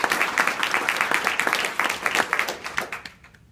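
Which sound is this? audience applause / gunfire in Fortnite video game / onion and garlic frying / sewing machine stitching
audience applause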